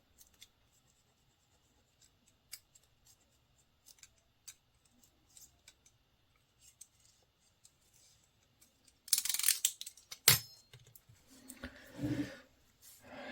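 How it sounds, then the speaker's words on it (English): A very sharp cutter slices through stubborn foam surround material for a JAMO M-20465 speaker repair, giving sparse faint clicks at first, then a few seconds of louder, rough scraping cuts near the end. "this is quite a stubborn material to cut. So even a really sharp cutter doesn't want to cut it nicely."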